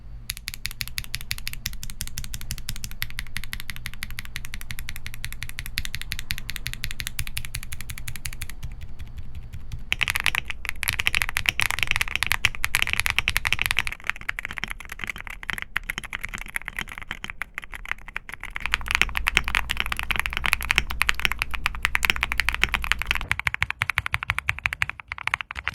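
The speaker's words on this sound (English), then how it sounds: "Here's a sound test comparing the switches side by side." Mechanical keyboard switches typing in a side-by-side sound test, rapid continuous clacking keystrokes close to the mic, with the tone and loudness shifting between sections as different switches are compared.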